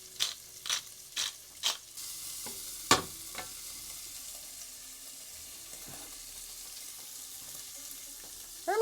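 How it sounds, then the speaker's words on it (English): Black pepper toasts in a pan for carbonara on a stove, a faint, steady sizzle under a few sharp knocks and scrapes near the start, with soft clinks later. "put pepper straight inside. Carbonara wants plenty of pepper. So you put it inside, so also the pepper toasts"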